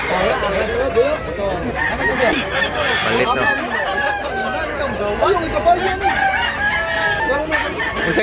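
Roosters and hens at a chicken sale crow and cluck repeatedly and loudly, close by, mixed with ongoing chatter and voices of people nearby.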